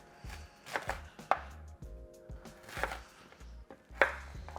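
A knife slices taro on a cutting board for steamed black bean spare ribs, with about five crisp, close chops at an uneven pace and short quiet gaps between them.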